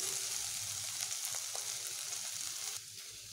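Bitter gourd (karela) fries in hot oil in a pan, giving a continuous close sizzle with faint crackles that drops a little in level near the end.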